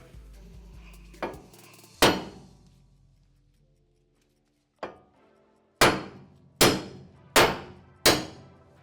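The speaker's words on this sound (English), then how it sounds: "get ourselves a big hammer and we're just going to knock these original studs out" Sharp metallic hammer strikes ring out, a few spaced blows and then a quick run of four evenly timed hits, each decaying with a clang.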